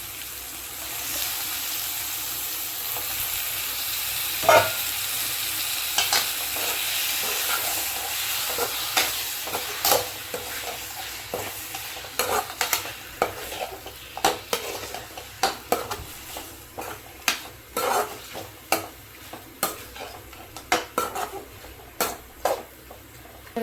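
Chicken sizzling in a pan with tomato and onion, a steady frying hiss broken by frequent sharp scrapes and clinks of a spoon stirring against the metal, growing busier toward the end.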